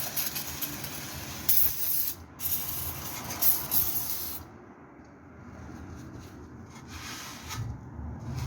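Brake cleaner sprays onto the caliper and disc of a Hillman Superminx in bursts of loud hissing, with short pauses and brief quieter stretches between the blasts.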